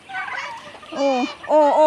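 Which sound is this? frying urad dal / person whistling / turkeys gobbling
turkeys gobbling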